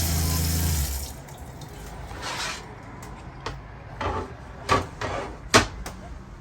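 Water rushes from a kitchen faucet in a Keystone Hideout 26BHSWE travel trailer at first, then gives way to quieter splashes and a few sharp knocks and clatters nearby.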